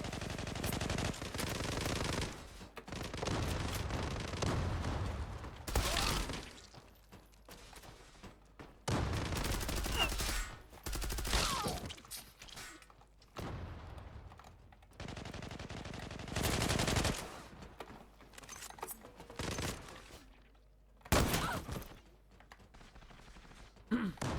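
Rapid bursts of automatic gunfire and single shots from the online shooter game Zula, loud and repeated in clusters with short pauses between volleys, with a voice speaking faintly in places.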